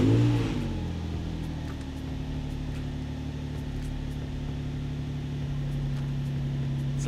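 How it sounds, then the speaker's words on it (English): A Nissan V35 Skyline engine makes its first startup after a big-bore NWP throttle body install: a brief crank and catch, then a steady, close cold-start idle hum that holds to the end. "Everything's now installed, so I'm just gonna go for the first startup and see how it behaves with the new throttle body."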